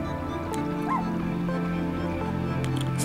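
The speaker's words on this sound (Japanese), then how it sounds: "さあ、犬の鳴き声が聞こえましたね。" Dog barking in the Kingdom: New Lands video game, a few faint barks and whimpers over a steady bed of game music and ambience, with no talking.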